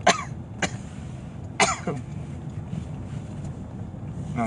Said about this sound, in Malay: Kejap kita batuk sikit